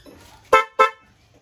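Two short, loud motorcycle horn honks in quick succession, close by, with quiet background before and after.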